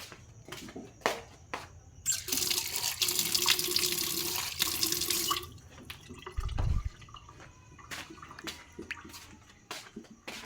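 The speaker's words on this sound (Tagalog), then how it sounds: "Lagyan natin ng konting sabaw." Broth poured into a thick apritada stew, with a steady splashing pour for about three seconds, quiet drips and clinks of cookware before and after, and a brief low thump.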